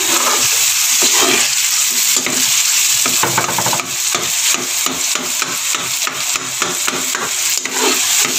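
A spoon stirring beef brain masala frying in a pan, with loud continuous sizzling and repeated scraping strokes against the pan in a steady rhythm, close up and without talk.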